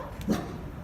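A service dog lets out a single short bark on command at a convention opening ceremony, heard fairly close in an otherwise quiet room.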